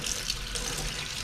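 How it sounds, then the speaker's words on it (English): Tap water pours steadily into a sink while cucumbers are rinsed, a continuous close splashing rush with no talking. "I'm gonna rinse these cucumbers off a little bit."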